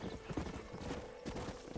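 Horse hooves clip-clop steadily at a walking pace in the western video game Red Dead Redemption, close and clear, with faint background ambience and no talking.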